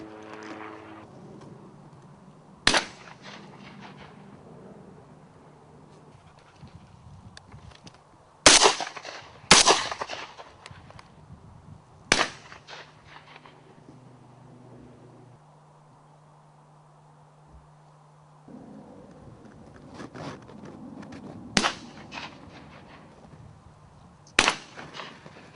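Shotgun blasts while pigeon shooting outdoors, about eight sharp reports spread irregularly, some in quick pairs, loud against a quiet background with a low engine-like drone in places.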